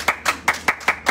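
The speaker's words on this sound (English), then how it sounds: "when you get it, clap your hands." Six sharp, evenly spaced hand claps from a church congregation during a sermon, close and crisp, in a quick regular rhythm with no talk over them.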